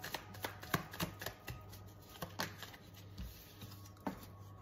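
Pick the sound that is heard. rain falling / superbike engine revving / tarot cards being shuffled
tarot cards being shuffled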